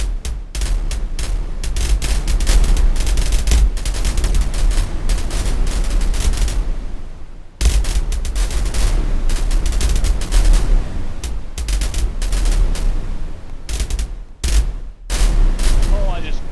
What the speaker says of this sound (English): what's cool is it'll only shoot the cannon from the side I'm looking